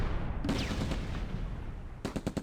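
Sherman tank firing its main gun and .30 caliber machine gun in a World War II strategy game set during Operation Market Garden: a steady roar of battle noise, then a fast, close burst of five or six sharp automatic shots at the end.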